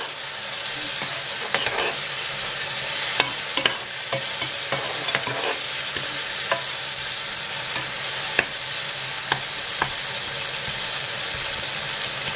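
Spring onion and celery fry and sizzle in a pot, with a steady loud hiss broken by repeated scraping stirs and little clinks of the utensil throughout.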